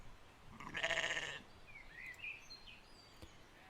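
A single sheep bleats once in a sustained wavering call, clear and fairly close, followed by faint bird chirps in a quiet outdoor scene for a children's animated story.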